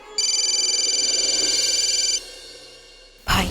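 A telephone rings with a steady warbling electronic tone for about two seconds, loud and close, then stops before a short burst of noise.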